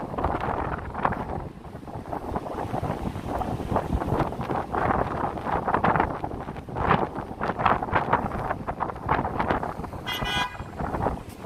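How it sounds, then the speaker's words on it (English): Steady wind gusting across the mic on a breezy Manhattan waterfront by the Hudson River near the High Line, with broadband rumble throughout and a brief car horn toot near the end. "Ah, it's windy here."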